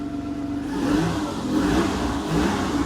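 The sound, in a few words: Citroen XM 3.0 24V engine revving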